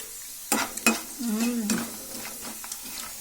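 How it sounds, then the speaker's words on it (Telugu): Potato pieces for aloo fry sizzle in hot oil in a pan while being stirred, with distinct scraping and clinking strokes over a steady frying hiss, close up. "అది నూనెలో వేసి ఇలా ఫ్రై చేస్తే ఎంతో టేస్టీ ఆలు ఫ్రై రెడీ."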